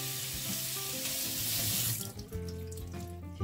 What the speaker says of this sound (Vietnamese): Đó, xả sơ qua nước lạnh các bạn.